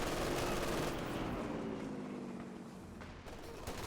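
Browning automatic rifle fire in a war video game: a dense, continuous roar of rapid gunfire and blasts that stays loud throughout and thins slightly toward the end.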